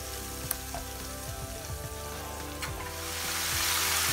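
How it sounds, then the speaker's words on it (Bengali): Spice paste stir-frying in a pan for a village-style tengra fish and pea-leaf dish, sizzling steadily while scattered scraping stirs tap through it, and the sizzle swells louder toward the end. "এখন এটাকে আমি নেড়ে টেড়ে একটু জাল করার পরে মাছগুলো দিয়ে দেব"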